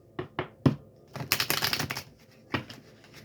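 Quick papery flicks and riffles of tarot cards being shuffled, a few separate snaps followed by a denser burst, close and fairly quiet.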